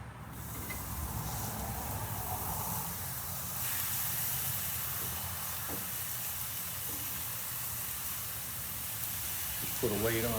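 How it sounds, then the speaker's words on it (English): Burger patties sizzle on a hot grill with a steady, close hiss that runs throughout, and a voice briefly speaks over it near the end. "So I'll get these on the grill."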